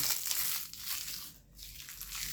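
Close, crisp crinkling of paper wrappers, rustling continuously with a brief pause in the middle.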